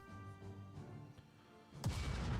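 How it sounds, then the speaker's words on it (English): Enemy anti-aircraft or artillery fire in Strategic Mind: Fight for Freedom, on a desert battlefield, firing at fighters: a faint distant rumble that breaks into a loud booming burst near the end, with no talking. "So enemy artillery, or I guess anti-aircraft fire, shooting at some of our fighters here."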